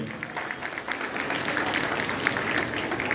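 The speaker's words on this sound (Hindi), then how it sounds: "जोरदार ताली बजाएं बच्चों।" Children at a school assembly give a speaker a steady round of applause. The clapping builds slightly and stays fairly full throughout.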